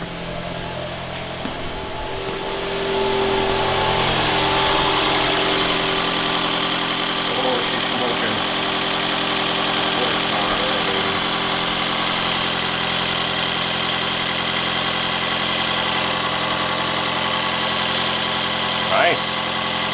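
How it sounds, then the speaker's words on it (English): A 2009 Toyota Camry Hybrid with a Magnaflow exhaust and a new catalytic converter idles steadily after starting, a quiet, even engine hum that holds nearly unchanged, with voices talking over it. "Listen to this Magnaflow exhaust, baby."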